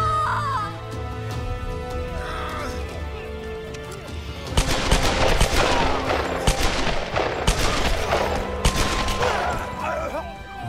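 Bursts of gunfire in the Tomb Raider video game, a run of sharp repeated shots and rapid fire over a busy game soundscape with birdlike calls, growing louder midway.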